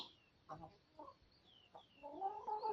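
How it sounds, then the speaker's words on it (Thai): Chickens cluck softly in a rural Thai farmyard while feeding on salad greens, with several short, separate clucks followed by a longer run of murmuring calls, all faint and somewhat distant with no voices. "ไก่กินสลัด"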